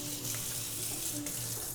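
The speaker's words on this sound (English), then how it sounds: "let's wash our hands" Hands being washed under a running kitchen tap, a steady close splashing water stream that holds evenly throughout with no talk.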